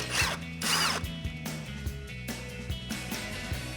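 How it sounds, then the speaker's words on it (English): A ratcheting socket wrench loosens a 10mm brake line bolt on a 2009-2014 Ford F-150 with a series of quick, close clicking pulls broken by short pauses and metal rattles. "We're gonna grab a 10mm socket and remove this."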